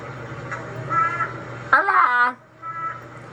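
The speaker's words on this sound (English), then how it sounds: "I found this crow video somebody put up saying the bird knows who God is." A crow caws through a small speaker as a video plays, heard as a few harsh, close calls with a loud burst near the middle and background room noise around them.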